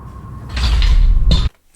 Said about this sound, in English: another door to his left swings closed